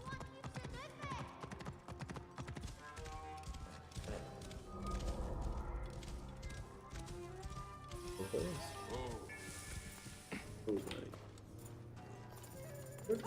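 Horse hooves clopping in Assassin's Creed Origins, a steady clip-clop rhythm under game music and effects, with a talking voice over it.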